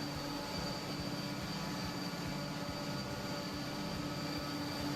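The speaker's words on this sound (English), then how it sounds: "A little bit further away from that locomotive just to eliminate some noise." Steady locomotive rumble in the train game Transport Fever 2, heard from a short distance with a constant low drone and faint tonal hum, no talking.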